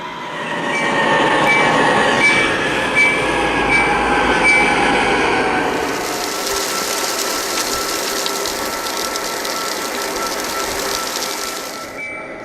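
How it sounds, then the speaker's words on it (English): Railroad freight wagons being propelled by locomotives into an unloading dumper facility roll past loudly, with metallic wheel squeals, clanks and rumbling, then a steady broad hiss of rolling cars for the rest of the stretch. "Gary propel the wagons into the unloading facility"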